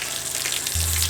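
Water hissing and spraying steadily from a camper van's shower hose spray nozzle, close by, with a low rumble joining partway through.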